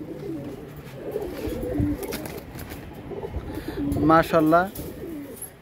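Gorra pigeons from breeding master pairs give soft, throaty coos, with one clear rolling coo near the end, while someone talks nearby over a low background hum.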